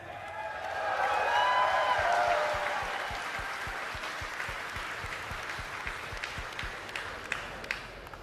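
Crowd applause at BlizzCon for the third-place StarCraft II finisher, a swelling wash of clapping that peaks early then thins into scattered claps, with crowd noise and faint speech underneath.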